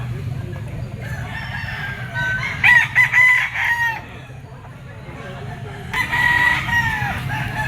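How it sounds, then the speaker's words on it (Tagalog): A Boston sweater gamecock rooster crows loudly and close by, two separate crows a few seconds apart, over a low steady hum and some background chatter. "Isang Boston sweater cock."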